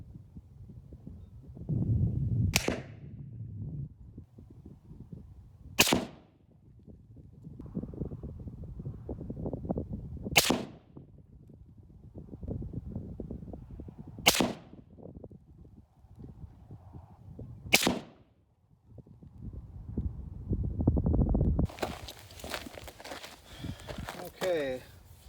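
Rifle shots from a Ruger American Ranch in 7.62x39 with a Redfield 3-9 scope, firing TULA and BELOM ammunition: five sharp, loud reports spaced several seconds apart, with a person talking between them.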